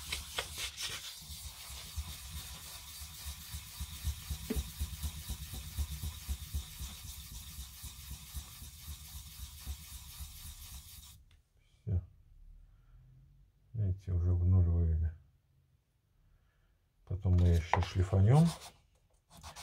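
Fine wet sandpaper rubs steadily against an amber pendant, a continuous close scratchy friction for about eleven seconds, then stopping as a voice speaks in short bursts.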